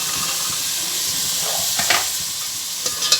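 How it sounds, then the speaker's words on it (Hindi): Boiled chickpeas frying in spice masala for chana pulao give a steady, moderately loud sizzle, with a few brief stirring clinks toward the end. "ताकि वो भी हमारे मसाले में अच्छे से भून जाएं, अच्छे से फ्राई हो जाएं"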